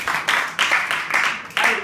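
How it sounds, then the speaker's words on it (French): A small audience at a debate training session claps in a slow rhythmic pattern of a few strong beats, close and moderately loud, with a voice faintly underneath. "On peut l'applaudir."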